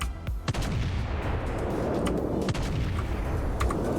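Main battery cannons fire in the space game Starbase, a string of heavy booming blasts with rumbling tails, loud and close, repeating over a dense, sustained roar of battle noise.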